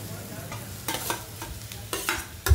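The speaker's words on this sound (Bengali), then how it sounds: "এই পেঁয়াজের সঙ্গে ভালো করে মিক্স করে নিচ্ছে।" Boiled potato stirred into fried onions in a pan, with a soft continuous sizzle broken by several scraping strokes of a spatula, the last one sharper and louder, all close and without speech.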